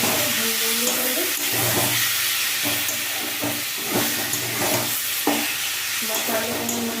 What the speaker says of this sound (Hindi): अब हम इसको इसमें डाल देंगे, मसाले को भून देंगे पहले।